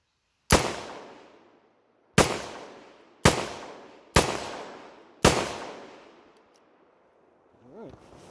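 Five loud, sharp gunshots from a 7.62x39 AR pistol fitted with a muzzle brake, fired outdoors at uneven intervals, each followed by a decaying echo, with a faint voice at the end.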